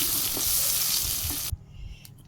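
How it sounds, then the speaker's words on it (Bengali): Eggplant slices, coated in turmeric and salt, sizzle loudly in hot oil in a pan, with a few stirring scrapes, then the frying cuts off sharply partway as the pieces are lifted out, leaving faint clinks. "হালকা একটু ভাজি করে উঠিয়ে নিই বেগুন ভাজি হয়ে গেছে উঠিয়ে নিই"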